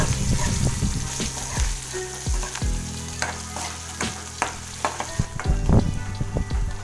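Boiled potatoes tossed in hot oil with spices sizzle steadily in a pan, broken by repeated scraping stirs and low knocks of the spoon against the metal, close and fairly loud with no talking.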